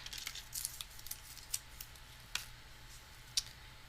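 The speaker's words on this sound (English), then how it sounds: "Now I think I'm going to go ahead and cut out." Scissors snipping through card while making a shaker card, a handful of quick, crisp, close cuts spaced irregularly over a quiet background with no talking.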